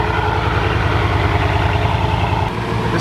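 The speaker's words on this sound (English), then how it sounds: "this is a one-off Bugatti Veyron Grand Sport Vitesse" A one-off Bugatti Veyron Grand Sport Vitesse engine idles with a steady, loud, throbbing low rumble, close by and unbroken, with no voices over it.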